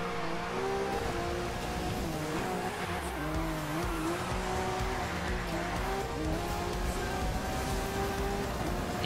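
Engine roar of a Lamborghini in the racing video game Need for Speed Rivals, loud and continuous with shifting pitch as it accelerates, plus faint tire squeal throughout.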